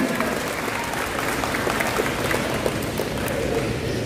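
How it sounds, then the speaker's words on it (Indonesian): An opening ceremony crowd honouring Malaysia 2020 census enumerators in Kota Marudu bursts into sustained, even applause that fills the hall without pause. "Berikan tepukan yang paling gemuruh."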